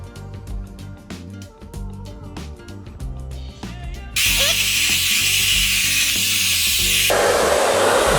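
An electric hair clipper hums, then kicks into a loud, steady buzz halfway through that continues to the end with a slight shift in tone.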